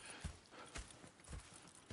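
Horse hooves clip-clop in Red Dead Redemption 2, with several irregular hoofbeats landing close and fairly quiet over a low ambient bed, with no talk.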